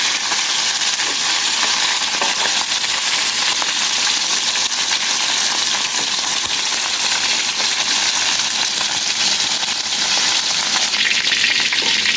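Very hot oil frying in a pan gives a loud, steady, close sizzle that crackles without a break from start to finish, with no talking.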